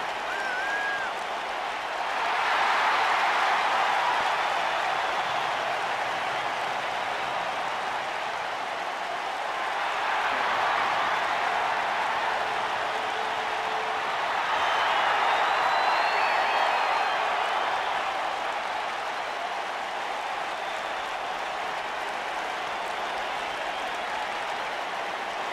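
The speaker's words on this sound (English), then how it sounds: "And Michael, it sounds to me like this crowd already picked the one who they want to win this match" A wrestling arena crowd in a WWE 2K video game cheers and applauds at a distance, with the noise swelling in three broad waves over a steady hum of the hall.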